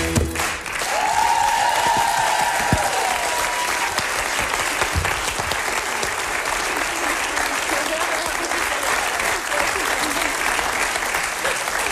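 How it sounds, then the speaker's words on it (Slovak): Sustained audience applause filling a Slovak improv comedy show (Partička) venue, steady dense clapping throughout with a brief tonal voice or sound near the start. "Veľký potlesk Adriane!"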